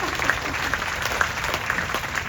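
Sustained audience applause in a theater during a magic show, an even dense patter of many hands throughout, steady and moderately loud.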